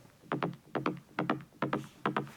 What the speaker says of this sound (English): so you can use this one only as a mid rolling bass